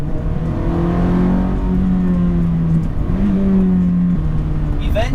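Ferrari F430 F1 engine pulling under acceleration during a test drive, a steady droning growl with rising tones and a brief shift dip, heard from inside the car alongside faint speech.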